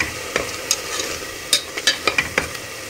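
Bell pepper with red chili, turmeric and salt fries in oil while being stirred, a loud close sizzle punctuated by quick spatula scrapes and clinks, no one speaking.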